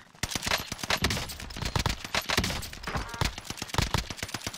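SMG fire in a video game: rapid, close bursts of sharp cracks in a quick rhythm that continue almost without pause for over four seconds.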